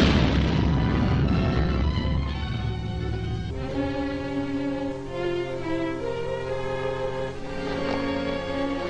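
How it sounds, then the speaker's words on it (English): An explosion set off by a device is a deep, loud boom at the start that rolls and fades into dramatic orchestral music. "It was a concussion from the explosion."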